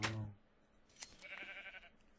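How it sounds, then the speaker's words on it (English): A sheep in the video game Minecraft lets out a single close, wavering bleat at the start, followed by fainter, softer sounds. "Hello, Mr. Sheep."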